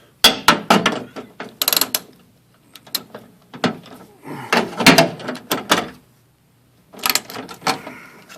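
Tightening window motor bolts on a 1979 Firebird gives a run of quick ratcheting clicks in several bursts, close and fairly loud, with short pauses between them.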